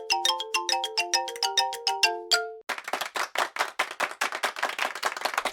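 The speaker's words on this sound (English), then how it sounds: "I can hear my cell phone ring." A cell phone in a hotel room rings with a bright, repeating electronic chime melody for a couple of seconds, then steady rhythmic clapping follows, loud and close with no speech.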